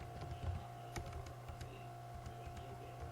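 Faint, rapid clicking of keys on a computer keyboard while an SQL query is typed, an irregular patter of soft taps over a low background hum.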